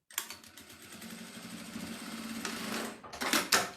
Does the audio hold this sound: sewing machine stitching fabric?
yes